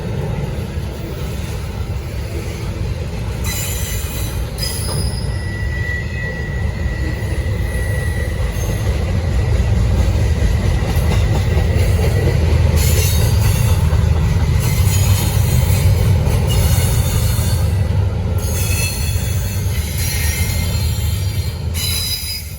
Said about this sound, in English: This train is no joke, man.